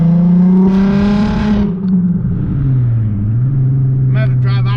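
A VR6 car engine drones close and loud with a steady low hum that dips slightly in pitch midway and then levels off, with a faint higher whine near the end.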